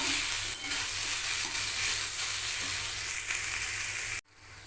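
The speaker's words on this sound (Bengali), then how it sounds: "এটাকে একটু আমি হালকা করে ফ্রাই করে নেব।" Chopped green chillies and onions frying lightly in oil for a Bengali egg bhurji, a dense, loud, continuous sizzle up close that cuts off abruptly near the end.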